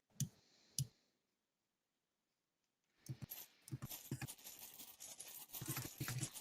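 Cards are shuffled in Tabletop Simulator, with two sharp clicks, a pause of near silence, then a run of rapid clattering, riffling clicks growing busier toward the end.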